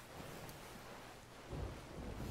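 Thunderstorm in the video game Sea of Thieves, a quiet, steady wash of rain and wind with a low thunder rumble swelling near the end.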